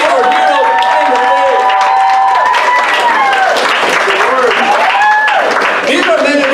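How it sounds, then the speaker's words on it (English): A church congregation gives a loud round of applause, sustained clapping and cheering that lasts throughout, with singing or sustained voices rising above the crowd noise. "Let's give them a round of applause."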